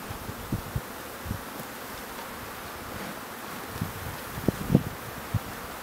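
Faint, soft buzzing of honeybees around an open hive, with occasional close thumps and rustling handling noises.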